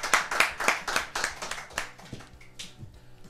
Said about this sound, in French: applaudissez pour lui avant qu'on ne revienne sur cette affaire